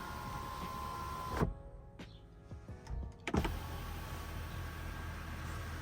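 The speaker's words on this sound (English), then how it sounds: "The motor is a little loud, but not too loud." A small electric sunshade motor in a Tesla Model Y whirs steadily, stops briefly with a few clicks and knocks, then starts whirring again at the same level.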